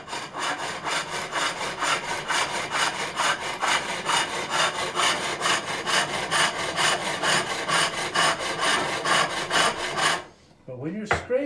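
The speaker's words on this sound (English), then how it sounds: "when you're scraping, it's really important not to push the tool too deep into the wood" Steady rhythmic rasping of a turning tool scraping wood on a foot-powered pole lathe, close and loud with regular strokes for about ten seconds before it stops abruptly.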